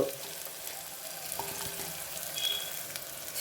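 Beans and carrot pieces fry in masala for pudina rice, giving a steady soft sizzle with faint stirring scrapes throughout, fairly quiet and with no talk.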